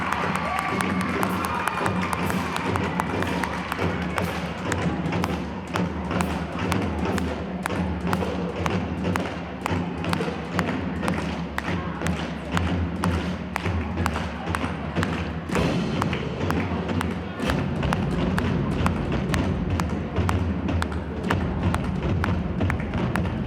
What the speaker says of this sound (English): Let's hear it for the Peoria High School Drumline.